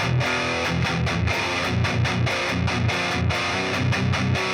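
Electric guitar chords through a Line 6 Spider II 2x12 75-watt amp with distortion turned down, strummed in a steady rhythm with a mild, gritty edge, fairly loud and up close, no voices.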